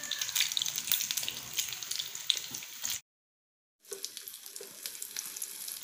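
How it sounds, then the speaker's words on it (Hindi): Potato donuts frying in hot oil over a medium flame, a close, crackling sizzle that cuts out briefly to silence and then resumes with lighter bubbling pops; no voices. "मीडियम फ्लेम पर हम इसे फ्राई करेंगे।"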